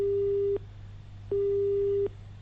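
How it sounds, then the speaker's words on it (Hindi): A telephone busy tone after a call is cut off: two steady beeps with a silent gap between them, repeating evenly over a faint low hum. "तो हरिचंद जी ने भी हमारा फोन काट दिया है"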